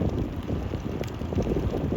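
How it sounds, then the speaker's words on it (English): Wind and background road noise outdoors in the Dolomites with an e-bike's DIY mid-drive motor switched off, a continuous rough rumble of wind buffeting close to the microphone, no voices. "The background noise and wind measure 54 decibels, while the idle engine produces no sound at all."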